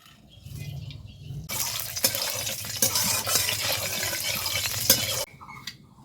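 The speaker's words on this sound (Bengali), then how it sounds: "এখন আমি ফোড়ন দেবো। তো ফোড়নে আমি এখানে নিয়েছি একটা শুকনো লঙ্কা, কয়েকটা গোটা গরম মশলা আর দুটো তেজপাতা।" A dried chili, a few whole garam masala and two bay leaves go into hot oil. A loud sizzle bursts out, carries on for several seconds with stirring clatter, then drops back down.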